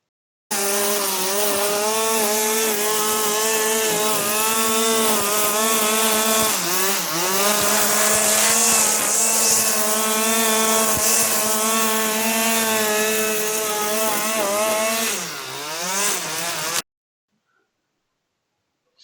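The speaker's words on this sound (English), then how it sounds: "you have to really take that string trimmer and let it work for you" A string trimmer cleaning along a house foundation during a spring yard cleanup, a close, continuous buzzing engine whine that rises and dips as it works, running alone for about sixteen seconds before cutting off.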